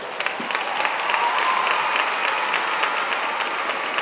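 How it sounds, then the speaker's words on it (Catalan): Applause fills the Fonteta arena in Valencia during a gala choosing candidates for Fallera Mayor, a dense, even wash of clapping from a large crowd that stays loud throughout. "Un fort aplaudiment per a tots ells."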